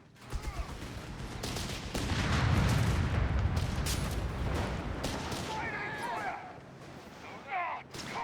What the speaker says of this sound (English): Taking heavy enemy fire here!